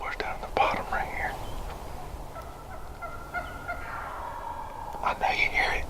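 Wild turkeys gobble in the distance during a turkey hunt, with a couple of rattling calls near the start and end, under quiet whispering.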